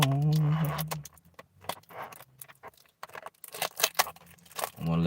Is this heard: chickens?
no